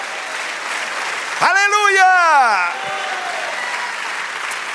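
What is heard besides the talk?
congregation applause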